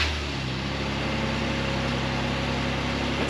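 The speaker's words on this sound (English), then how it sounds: "new exhaust, see how she sounds" A running car engine idles steadily through a new custom race exhaust, a low, even drone that stays constant and fairly quiet, with fans audible and no talk.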